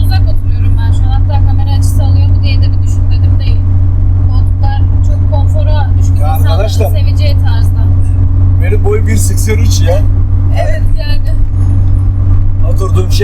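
A Tofaş Murat 131 T climbs a steep ramp in fourth gear, its engine droning loud and steady inside the cabin throughout, with someone talking over it and small rattles and jangles.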